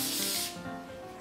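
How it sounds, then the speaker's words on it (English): Cooking oil spray hisses onto a waffle iron in one short close burst lasting about half a second, then fades to quiet background. "Give this a quick spray, both top and bottom."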